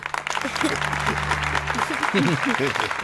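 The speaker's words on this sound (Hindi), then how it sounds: "बजाओ ताली।" Steady applause from a group of schoolchildren fills the clip while voices talk and call out over it.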